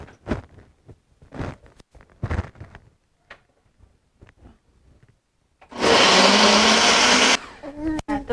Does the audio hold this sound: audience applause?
no